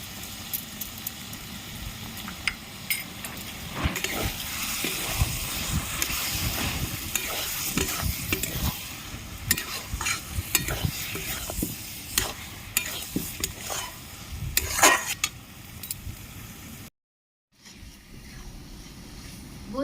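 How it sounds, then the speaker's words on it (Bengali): Taro leaves with prawns are stir-fried in a pan to cook off released water, giving a continuous sizzle with frequent busy spatula scrapes and clatters, then a brief silent gap near the end. "কচুর শাকটা ভালো করে আমি টানিয়ে নেব"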